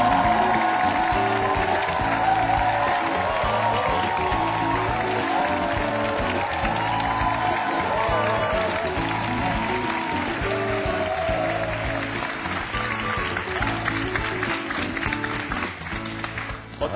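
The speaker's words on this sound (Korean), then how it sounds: "큰 박수로 모시겠습니다" A studio audience claps and cheers to welcome a Muay Thai instructor onto a talk show stage, dense sustained applause that stays loud throughout and begins to thin out at the very end.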